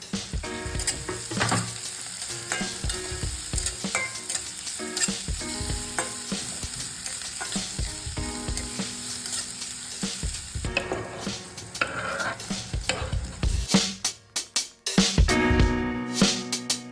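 Finely chopped onion fries in hot oil in a wok, giving a steady loud sizzle with stirring scrapes throughout and a brief dip before the frying surges again.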